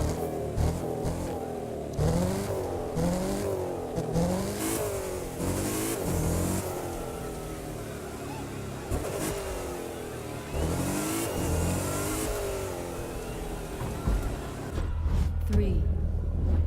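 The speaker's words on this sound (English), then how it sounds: "you'll be driving a Mercedes X-Class pickup truck, and so will the competition" Several Mercedes X-Class pickup trucks rev and accelerate in a rookie race in The Crew 2, engines climbing and shifting repeatedly in rising pitch sweeps, with talk over the top.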